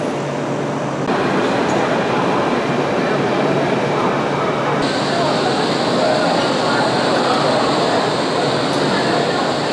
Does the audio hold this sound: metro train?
yes